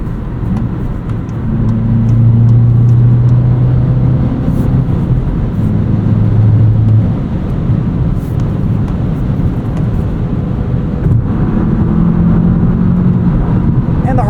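A 2025 Volkswagen Jetta GLI with a manual gearbox drones steadily from inside the cabin as it's driven, engine note climbing and falling through gears with a loud, continuous low rumble and road noise.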